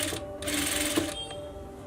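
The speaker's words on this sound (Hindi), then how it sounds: "यहाँ पर सिलाई को बहुत ही आहिस्ता से लगाएं" Sewing machine stitching a high-neck blouse, a quiet, close, rapid mechanical whir that runs in short bursts with a brief stop.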